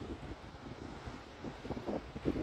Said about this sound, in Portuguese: Ai, está muito vento.